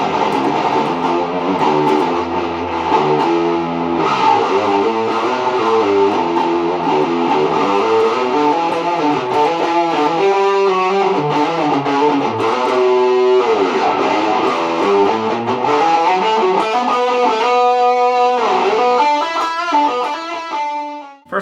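Distorted 8-string electric guitar played through effects, a continuous loud riffing passage with sustained chords and shifting notes, no voices.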